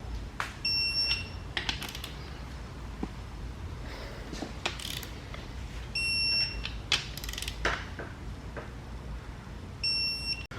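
Torque wrench ratcheting and tightening ARP main studs on an engine block during a 1.5JZ engine build, close repeated sharp clicks and ratchet bursts spaced across a quiet workshop background.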